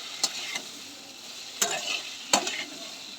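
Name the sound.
stirring onions and potatoes frying with poppy seed paste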